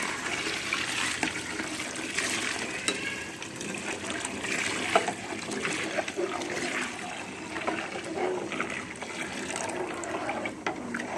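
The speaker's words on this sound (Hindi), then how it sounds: "अब हम इसमें दूध डाल देंगे।" A steady gushing pour of about ten kilos of milk into a pot for rice kheer, a continuous close liquid rush throughout with no speech.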